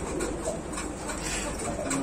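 Caged pigeons coo softly in a shop full of birds, low murmuring calls under a dense, noisy background hum.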